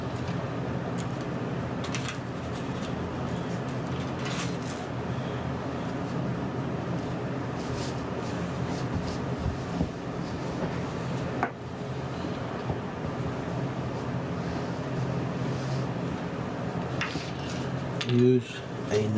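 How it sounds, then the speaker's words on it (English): Two-part epoxy mixed with a non-metal implement, giving soft scraping and clinking taps against a container, close and steady throughout, with light handling clatter and a louder knock near the end. "Use a non-metal implement to stir it. Mix it together really well."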